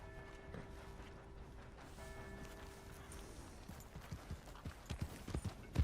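Horse hooves clip-clop at a steady walking pace with a faint mechanical creak in Red Dead Redemption 2, becoming louder and more distinct toward the end.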